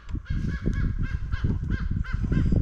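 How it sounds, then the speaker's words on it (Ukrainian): Several crows caw repeatedly outdoors in a mushroom-hunting forest with birch trees, harsh calls arriving in a steady series over a low rustling, rumbling background, fairly distant and moderate in level with no talk. "Ще й ворона кричить. Та й не одна."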